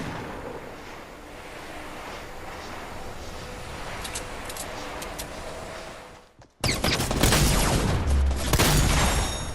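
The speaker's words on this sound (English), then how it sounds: "Threw a grenade at myself" A grenade going off in Fortnite: a muffled stretch of wind-like ambience drops out briefly, then a loud, sudden blast bursts in and leaves a dense, roaring rumble that carries to the end.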